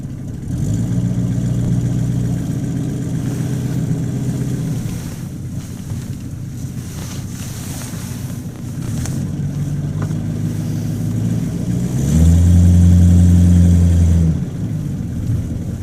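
A Buick Roadmaster idles with a steady low engine drone, then rises in pitch and pulls away near the end, with wind buffeting over the microphone throughout.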